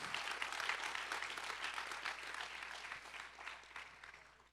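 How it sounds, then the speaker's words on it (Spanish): Congregation applause at Apostle Norberto Carlini's church conference, a soft, continuous patter of many hands clapping at a distance that thins and fades at the end. "Den un aplauso"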